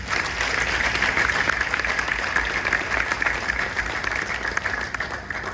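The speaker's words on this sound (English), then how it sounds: "Please give yourselves a round of applause." A banquet audience at a partner banquet gives itself a round of applause, steady and dense throughout, like a sustained crowd clapping from a moderate distance with no talk over it.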